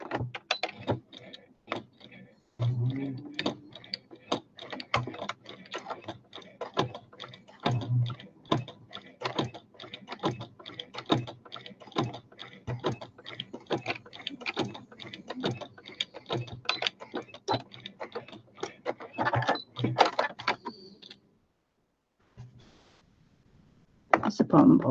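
Sewing machine with a stuck bottom bobbin, its mechanism clicking and ratcheting in rapid repeated bursts, close and fairly loud, with a brief pause before it resumes; a person talks intermittently.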